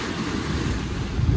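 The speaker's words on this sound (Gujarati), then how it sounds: "તો ભાઈ પાણીના મોજા જો ખાલી કેટલા છે ને પાણી એટલું ક્લિયર છે ને" Sea waves roll and break on a shore at India's southern tip, with clear water, a steady broadband wash of surf mixed with wind rumble on the microphone, growing slightly louder near the end.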